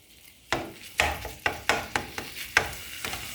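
Ground beef browning with fideo in a pan: a spoon scrapes and knocks against the pan in a string of about ten sharp strokes, with a soft sizzle underneath.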